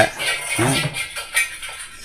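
Metal pots and vessels clatter and clink as they are handled inside a house, light scraping knocks scattered through the moment, with a voice speaking alongside.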